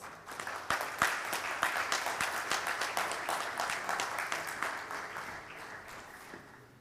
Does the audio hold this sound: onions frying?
no